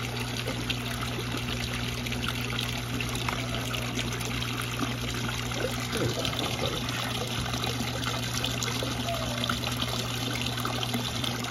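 An aquaponics air injector churns and agitates the water surface of a backyard fish tank, giving a steady bubbling, trickling wash with a constant low pump hum underneath, uninterrupted for the whole stretch.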